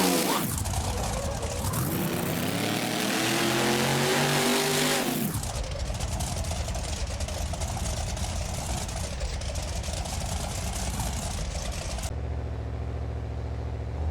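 A monster truck engine in BeamNG Drive during a Monster Jam-style event in Oakland, roaring loud and continuous, sweeping up in pitch as it revs early on, then holding a dense, steady drone.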